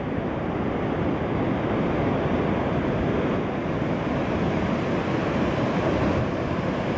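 Steady, dense surf rolls in at Waikouaiti Beach near Dunedin, New Zealand, ocean waves washing continuously with wind rushing over the microphone, no voices present.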